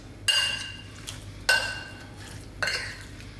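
Lamb being mixed with oil in a bowl, three separate bursts of utensil scraping and clinking against the dish, spaced about a second apart, close and moderately loud.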